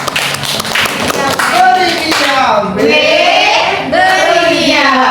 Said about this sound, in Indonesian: Kasih aplaus dulu untuk Ibu Fajriani.